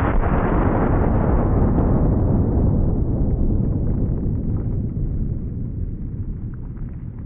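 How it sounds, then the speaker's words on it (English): A .375 H&H rifle shot hitting nacho cheese on a table: the report arrives already underway as a loud, broad blast that rolls and decays over several seconds. "The shockwave from that nacho cheese getting hit with the 375 H&H broke the table."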